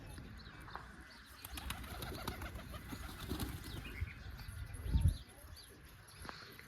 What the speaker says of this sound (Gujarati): કબૂતર પાસે દેખાડી હાલો જોઉં તમને કબૂતર